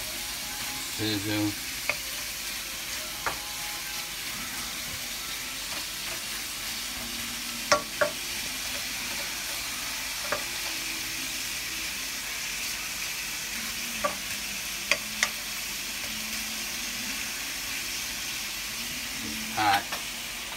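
Steady frying sizzle of sausage in a pan for seafood gumbo, a continuous hiss with occasional clinks of a utensil stirring, moderately loud and close.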